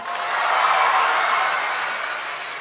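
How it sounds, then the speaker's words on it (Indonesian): A crowd of teachers at an education office gathering applauds together, a diffuse wash of clapping that swells and then gradually eases off. "Semuanya tepuk tangan."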